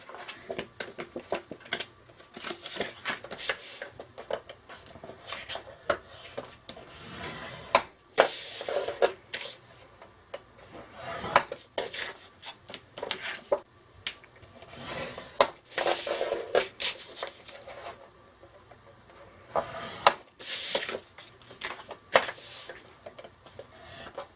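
Cardstock being scored for a handmade mini album, repeated scraping, rubbing strokes in irregular bursts with brief pauses, close and moderately loud, with no talking.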